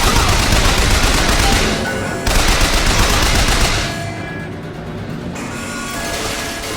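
Soldiers firing automatic weapons in Bioshock Infinite, a loud, sustained barrage with a brief break around two seconds before resuming, then fading to quieter scattered fire.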